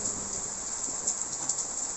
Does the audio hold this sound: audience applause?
no